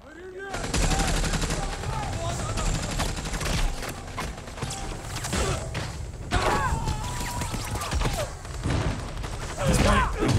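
Gunfire from The Flash (2023) rings out in dense automatic bursts and fusillades mixed with heavy thuds and crashes, loud and continuous, with a film score and people talking underneath.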